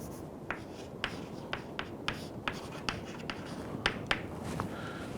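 Chalk or marker taps and strokes on a board while an equation is worked out, a series of short, sharp, evenly spaced ticks over a faint room hum, moderately close and fairly quiet.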